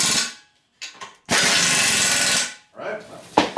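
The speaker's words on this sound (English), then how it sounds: "I'm using an impact gun for these" Impact gun driving bolts while assembling a Johnny Products sleeve hitch for a riding mower: a sustained loud burst of about a second, with shorter bursts and brief talk around it.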